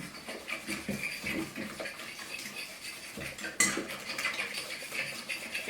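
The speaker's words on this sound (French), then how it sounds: "Maintenant, on ajoute un œuf. On continue de brasser." A utensil stirs keto Oreo-style cookie batter with an added egg in a bowl, producing continuous close scraping and tapping with one sharper clink partway through.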